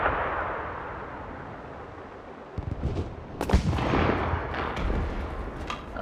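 A bomb goes off in the Enlisted war game, a sudden heavy boom partway through with a rumbling aftermath, following a roaring engine-like drone and scattered distant gunfire.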